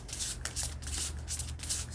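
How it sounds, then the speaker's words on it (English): Tarot cards are shuffled close by, a soft papery rubbing and riffling that comes in uneven bursts over a low steady hum. "So I'm going to start shuffling now."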